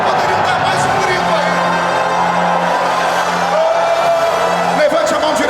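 A church congregation shouts and whoops together in a loud, continuous crowd roar during a worship service, with voices blending into a sustained swell that lingers for several seconds.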